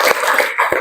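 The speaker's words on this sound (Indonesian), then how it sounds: "Tepuk tangan untuk Magenta dulu" A classroom applauding a pupil named Magenta: two short bursts of hand claps close by, brief and light, fading out within a second.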